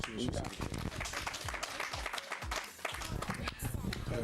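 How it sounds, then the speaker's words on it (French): A live event audience claps in a lively, steady burst of applause, fairly close, with voices mixed in beneath the clapping. "Est-ce qu'on peut applaudir"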